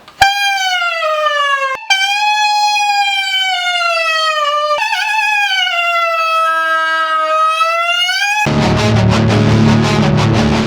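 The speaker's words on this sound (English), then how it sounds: "I've been working on my mouthpiece sirens all day" A buzzy brass mouthpiece siren slides slowly up and down in long, loud glides, breaking off briefly once, before other sound takes over near the end.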